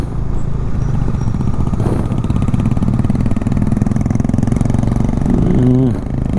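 Motorcycle fitted with a modified silencer rides past on a Manali to Delhi trip, its loud engine drone steady and close throughout, rising slightly near the end as it passes.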